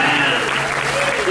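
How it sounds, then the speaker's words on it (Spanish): A church congregation applauds during a sermon, with brisk, full clapping mixed with faint voices throughout the brief moment. "Si usted lo cree, denle un aplauso lindo a papá"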